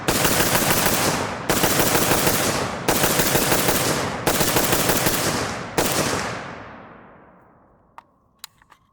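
A Palmetto State Armory Krink rifle fires steel case ammo in five rapid full-auto bursts, loud and close with sharp echoing cracks, the last burst trailing into a fading ring, then a few metallic clinks.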